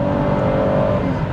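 The 3.6-litre V6 of a 2019 Holden Acadia LTZ-V is revved high toward 6,000 rpm, giving a smooth, muted, steady engine drone heard up close.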